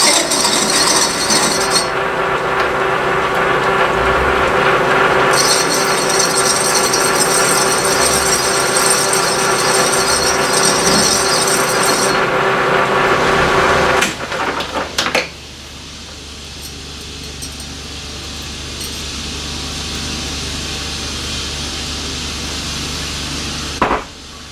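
Power tool grinding steadily to dress off a small inside and outside chamfer on a crane part, loud and continuous with a high whine that cuts in and out, then drops to a quieter running hum near the end.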